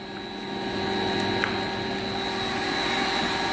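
An electric motor run on a Schneider Electric variable frequency drive whines steadily with a high tonal hum and broadband rushing as it runs up toward full speed, loud and continuous throughout.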